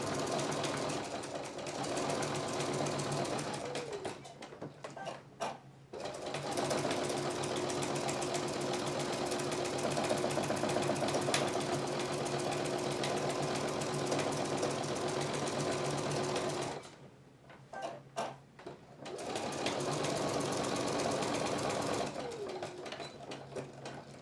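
A sewing machine stitches a plush button-up shirt collar from one ironed edge to the other, a fast continuous whirring drone that stops briefly twice, then resumes, close and alone.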